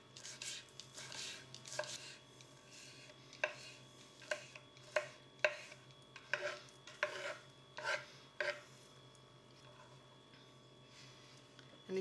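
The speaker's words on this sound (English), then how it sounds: "grab them all together and just finely chop them" A knife chops through a stack of fresh mint leaves on a board in a run of quiet, crisp taps at an irregular rhythm, with a faint steady hum in the background.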